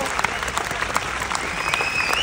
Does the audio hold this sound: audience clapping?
yes